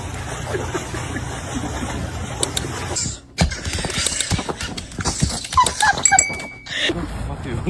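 A dog moves around close by, with sniffing, whimpers and scrabbling paws, along with clattering and knocks against a background hum.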